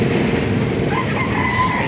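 A chicken at an outdoor animal market, crowing and clucking in a steady wash of crowd and traffic noise with no pauses.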